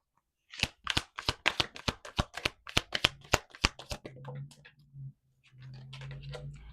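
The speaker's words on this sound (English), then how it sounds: "You see me shuffling this deck." A rapid run of sharp tarot card riffles and flicks as a deck is shuffled, a dozen crisp snaps in quick rhythm, followed by a low steady hum.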